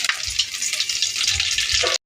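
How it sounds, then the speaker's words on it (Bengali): Nigella seeds and two dried red chilies sizzling in hot oil in a kadai, a steady close crackling hiss that runs unbroken and then cuts off abruptly. "এবার কালো জিরে আর দুটো শুকনো লঙ্কা ফোড়ন দিয়ে নিলাম।"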